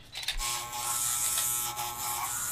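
Electric clippers buzz continuously while shaving a head, a close, steady motorized hum with slight shifts in pitch as the blades move through the hair.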